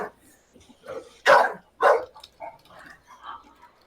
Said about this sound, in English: that's a well-behaved dog not jumping up at the TV